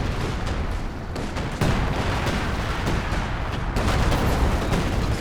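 An artillery barrage and gunfire in the World War II strategy game Company of Heroes 2 form a dense, continuous wash of rumbling explosions and crackling shots, with a heavier swell partway through.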